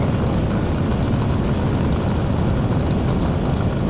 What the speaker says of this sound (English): That is a D Fuel Roadster.